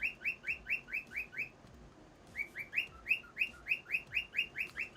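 A pet bird, one of a mated pair, chirps in a rapid run of bright, evenly spaced calls, pauses briefly, then repeats the series, close and clear with no talk.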